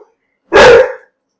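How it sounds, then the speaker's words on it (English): A single loud dog bark close by, one sharp burst about half a second long, alone with no talking. "dog acting crazy"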